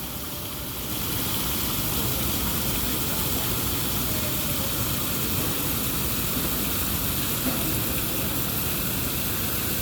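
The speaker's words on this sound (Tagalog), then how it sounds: "Nakaka-relax yung tunog ng tubig." Water splashes in a fountain in Hang Hau, Hong Kong, giving a dense, continuous rushing wash that stays loud and even throughout, with no talking over it.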